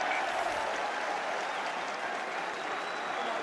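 A rugby crowd at Munster versus Ospreys applauds the kick-off, a dense, steady wash of clapping and cheering heard from a distance.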